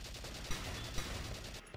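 Rapid gunfire in the war strategy video game Valkyria Chronicles, a dense rattling burst of shots with a few sharper cracks standing out, steady and moderately loud with no talk.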